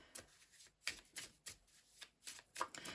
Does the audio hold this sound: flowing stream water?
no